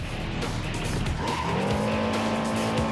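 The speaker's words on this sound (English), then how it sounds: "Holding down the brake will stop your racer and put it into reverse." Jak X racer car in a combat racing video game braking hard and reversing, with a loud continuous engine drone and tire squeal that rises into a skidding whine partway through, no talk.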